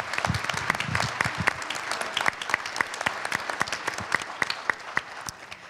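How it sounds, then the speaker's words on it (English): An audience at a city's State of the City event claps for the moderator, a moderate, fairly sparse round of applause with individual sharp claps distinct in the room, gradually thinning. "A round of applause for Ken, our moderator, please"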